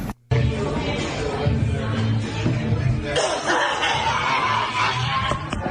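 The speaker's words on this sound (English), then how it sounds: "She's coughing on him." Several sharp coughs break out amid lively chatter and snickering, close and loud, with voices talking over them.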